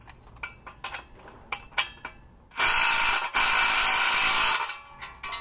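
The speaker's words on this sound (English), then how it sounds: "I'm gonna be using my trusty old DeWalt impact driver, charged overnight." A DeWalt impact driver fastens bolts on a Harbor Freight trailer: several short mechanical clicks and taps, then a loud sustained burst of driving lasting about two seconds before cutting off, no voices.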